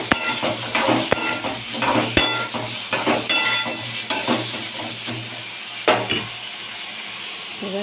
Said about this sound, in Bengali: এবার গরম তেলে, সর্ষের তেল অবশ্যই দেব, যেহেতু পোস্ত করব তাই আলুটাকে আগে হালকা করে ভেজে নেব